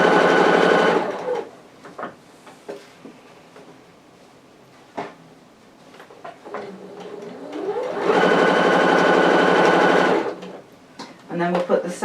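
A sewing machine runs long basting stitches on an apron skirt, whirring steadily for about a second at the start, then again for roughly two seconds later, with quiet handling noises in between.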